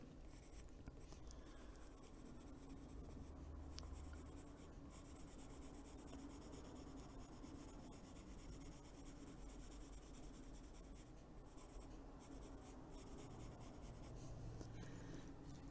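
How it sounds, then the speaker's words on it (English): A Luminance colored pencil is drawn lightly across paper, producing a faint, continuous scratchy rubbing of short strokes against quiet room noise, while someone occasionally speaks softly. "if you hold the pencil farther back, you can get a nice light touch"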